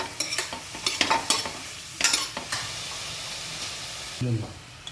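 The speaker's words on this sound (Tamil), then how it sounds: "ப்ரக்கோலினையும் கேப்சிகமையும் அந்த பட்டரில் போட்டுருங்க. அடுத்து மஷ்ரூம் அதையும் போட்டு நல்லா ஃப்ரை பண்ணுங்க." Broccoli, capsicum and mushroom fry in butter in a pan, with soft sizzling under intermittent stirring and scraping clatter, plus a brief low thump near the end.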